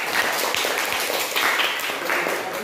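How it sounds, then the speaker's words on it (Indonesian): Steady applause from a class group for a student, a dense wash of clapping lasting a few seconds without pause. "Tepuk tangan buat Hilal"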